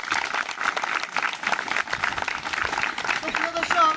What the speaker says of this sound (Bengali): একবার জোরদার তালিয়া